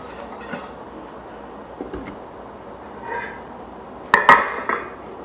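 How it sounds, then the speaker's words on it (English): A whisk clinks and scrapes in a pot as polenta goes into boiling water, with scattered light metallic taps and a brief louder burst of clattering near the end over a low background. "now we're adding the polenta to the boiling water, and we're going to whisk it in"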